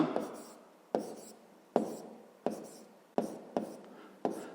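A pen or pencil writes numbers by hand on paper while a math exercise is worked out, quiet close scratching in short repeated strokes, each starting with a small tap, at a steady pace.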